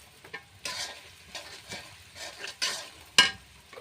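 Turmeric, chili powder and other spices fry in oil for a koi fish curry, with a spoon scraping the pan in irregular close strokes over a soft sizzle and one sharp clink near the end.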